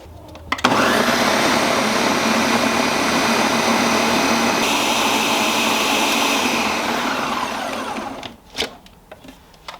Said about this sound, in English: So we're gonna get all this into a blender.